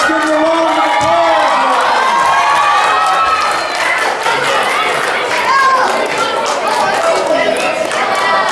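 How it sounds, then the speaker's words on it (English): A lively crowd at a children's stage show cheers, whoops and claps for a young volunteer coming up from the front row, loud and continuous with shouting kids over the clapping. "let's give her a round of applause"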